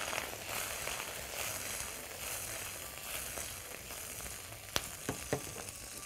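Mushrooms frying in a pan give a steady, moderately quiet hiss throughout, and near the end a few sharp clicks of the spoon being stirred against the pan.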